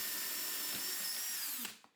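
A hand drill boring a straight hole, used with a flat-based guide like a drill press, whines steadily at high pitch for about a second and a half, then winds down and stops with a couple of faint clicks.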